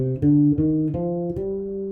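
Bass guitar picking a G dominant 7 flat 9 arpeggio drawn from the Phrygian dominant mode, a few clear sustained notes rising one after another, close and alone.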